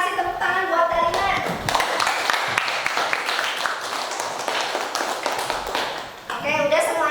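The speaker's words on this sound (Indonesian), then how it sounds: "tepuk tangan buat Dalina." Students in a history classroom break into lively, dense clapping that swells, holds for several seconds and then tapers off, with a teacher's voice heard briefly at the start and end.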